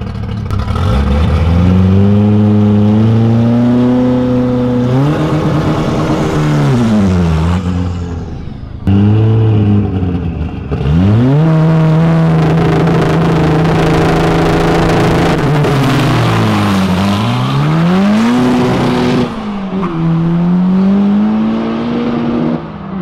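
A 4x4 car with a dual-clutch gearbox accelerating hard in a race, a loud continuous engine roar climbing through the revs with quick gear shifts and repeated rises and drops in pitch.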